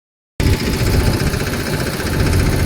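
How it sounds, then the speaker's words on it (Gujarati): A farm tractor's engine runs steadily and close by on a rural vegetable farm, a loud continuous low rumble with vibration that starts abruptly after a brief silence and holds even throughout. "ઉછન પપ્પા આવે છે ટ્રેક્ટર લઈને લેવા"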